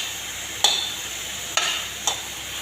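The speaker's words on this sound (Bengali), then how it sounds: "ফুলকপির মধ্যে শিম দিয়ে দিচ্ছি, একসাথে শিম আর ফুলকপিও ভেজে নেব।" Cauliflower and beans fry together in a pan, a steady soft sizzle broken by three sharp scrapes of a spatula stirring them, close and without talk.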